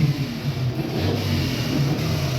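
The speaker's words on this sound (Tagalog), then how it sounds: "Dapat buksan na natin mga makina natin ngayon." A car engine idling and revving at a New Year celebration, a steady low rumble with slight rises in pitch, heard alone without voices.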